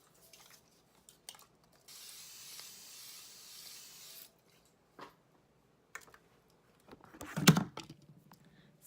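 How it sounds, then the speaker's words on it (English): A spritz of setting spray over a finished makeup look: a soft, close hiss lasting about two seconds, with light tapping and handling sounds around it. "I'm going to give one more spritz."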